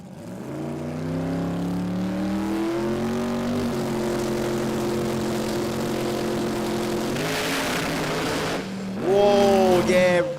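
A turbocharged Pro Mod drag car at a Brisbane drag racing meet holds a loud, sustained engine drone that shifts pitch, then a sharper, louder rising roar near the end, with a commentator's voice over it.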